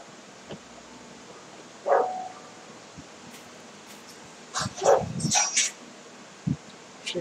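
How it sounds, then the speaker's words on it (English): Dogs in the video game 7 Days to Die bark and yip in scattered short bursts, a few sharp, fairly close calls against a quiet background. "Dogs."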